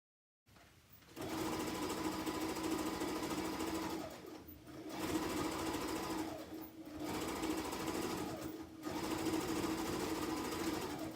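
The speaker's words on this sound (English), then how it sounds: "now that we've stitched all the way around the top of the stocking" Sewing machine stitching around the top of a quilted Christmas stocking, a steady close motor hum in four long runs with short pauses between them, alone and fairly quiet.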